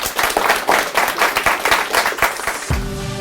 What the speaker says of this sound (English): Audience, will you please give our superstar panel a warm round of applause.